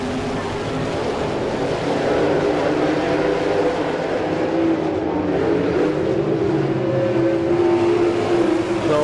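Sprint race cars at the All Star Circuit of Champions in Chillicothe, Ohio, roar together as a field accelerating, a dense loud engine drone that rises in pitch partway through, with no talking.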